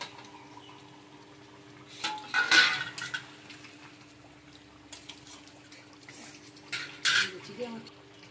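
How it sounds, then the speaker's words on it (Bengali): A metal lid lifted off a pot of chicken cooking with potatoes, with two clattering clanks of metal against metal a few seconds apart over a quiet kitchen hum. "চিকেনটা আমি চাপাটা খুলছি।"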